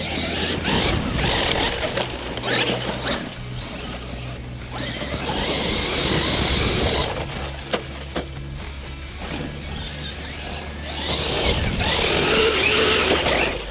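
A Traxxas Maxx RC truck fitted with a WideMaxx kit runs at full throttle over dirt berms, its motor whine and rough crunching impacts continuous and loud, with surges and rattles as it plows through.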